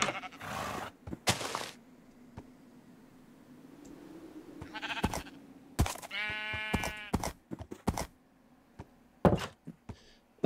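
A sheep bleats in the video game Minecraft, one wavering bleat in the middle, surrounded by sharp thunks, footsteps and clicks from the game, with quiet gaps between.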